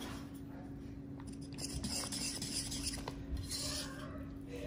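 Sourdough bread dough being mixed by hand in a bowl, a soft continuous rubbing and scraping, faint and close, with no talking.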